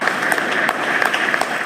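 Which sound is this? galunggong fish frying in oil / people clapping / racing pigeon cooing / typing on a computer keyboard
people clapping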